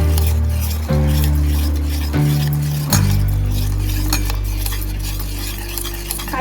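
Wheat cake batter with milk stirred steadily in one direction, a spoon scraping and clinking against the vessel in a continuous grinding swirl with a few sharper knocks, close and alone.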